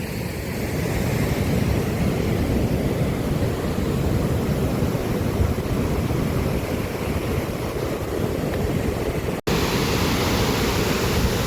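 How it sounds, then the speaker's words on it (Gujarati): Heavy rainwater rushing like a stream past a village water spot after a downpour, a steady loud broadband roar that holds unbroken throughout with one brief dropout near the end. "મારી પાછળ મસ્ત ઝરણા જેવું વયું જાય છે. અને પુષ્કળ પાણી અને પુષ્કળ વરસાદ."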